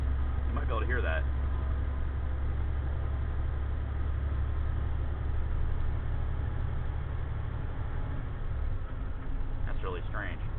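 A Navistar MaxxForce truck engine idles steadily, a low continuous rumble with a faint pulsing turbo note, while a voice is heard briefly near the start and again near the end.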